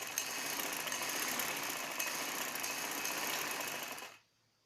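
A sewing machine stitches the button placket of a baby frock in a fast, continuous, close whir that stops abruptly near the end.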